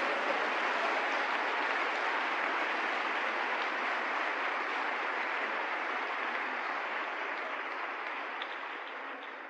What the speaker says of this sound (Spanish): Le da un aplauso al Señor si entiende usted que es muy distinto.